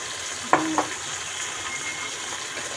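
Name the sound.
pasta sauce added to pan, frying and sizzling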